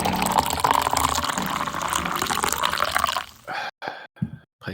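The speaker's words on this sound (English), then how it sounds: "just take this opportunity to pour my cup of coffee" Hot coffee pours steadily into a cup with a close, bubbling liquid rush, then breaks into a few short splashes and drips separated by silence at the end.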